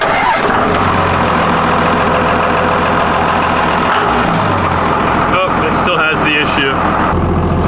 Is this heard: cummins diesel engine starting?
yes